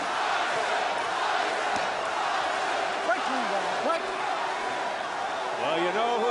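An arena crowd at the Mike Tyson vs Danny Williams heavyweight boxing fight roars steadily throughout, a dense loud wash of shouting and cheering with a commentator talking over it.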